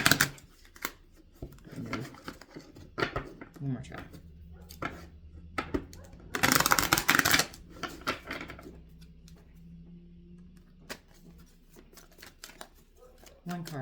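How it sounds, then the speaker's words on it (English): Tarot cards being shuffled by hand, a string of crisp papery taps and clicks building to a dense riffle in the middle, with a voice speaking briefly. "Let me see if I can get one good shuffle here."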